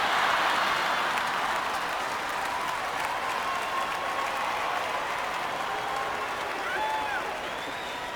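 A comedy show audience claps and applauds steadily, a dense, sustained wash of hands filling the room throughout, with crowd noise and faint voices mixed in.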